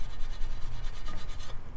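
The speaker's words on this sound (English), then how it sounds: "I'm gonna try some steel wool to see if that helps at all." Steel wool rubbed against a part of a 196cc Honda clone engine from a Coleman CT100 minibike, giving a steady, close rasping scrape with a quick repeating back-and-forth rhythm that continues throughout, with no voices.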